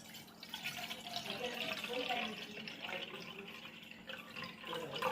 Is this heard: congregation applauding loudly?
no